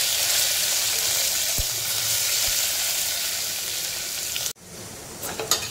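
Onion sautés in hot oil with mustard seeds, asafoetida and curry leaves, a loud, dense, continuous sizzle with a couple of stirring taps, breaking off abruptly near the end into a quieter sizzle with light scraping.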